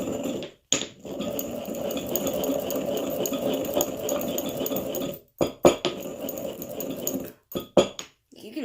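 Hot foot powder ingredients being ground by hand, a continuous gritty scraping and rattling that runs for several seconds and then breaks into short scrapes and clinks with brief silences between.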